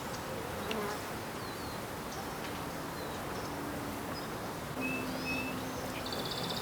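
Honey bees buzz steadily in an open Flow Hive during queen installation, a dense close hum with a few faint bird chirps over it.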